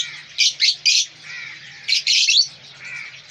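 Lovebirds give sharp, high chirps close by: a quick cluster of three, a pause, then another burst, with softer twittering between the calls.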